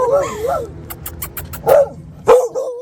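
Several dogs bark and yip in short bursts at close range, with speech and background noise mixed in.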